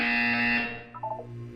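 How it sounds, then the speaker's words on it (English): A buzzer in the Portal 2 video game sounds once, a loud steady tone lasting about half a second, followed by a few brief quieter electronic tones. "You will hear a buzzer."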